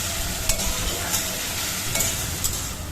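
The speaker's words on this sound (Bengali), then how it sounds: "তারপর ভালো করে নাড়াচাড়া দিয়ে দিই যতক্ষণ না এটা শুকিয়ে আসে" Ginger and chili paste with black cumin stirred while frying in a pan, a continuous sizzle with a few sharp scrapes and clinks of the spatula against the pan, close and fairly loud.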